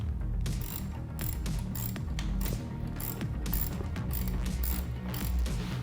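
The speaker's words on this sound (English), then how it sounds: "take your washers and nuts and tighten the front of the battery case back down" Ratchet wrench tightening washers and nuts on the front of a car battery case, a quick run of dense metallic clicks repeating steadily and close up, with no voices.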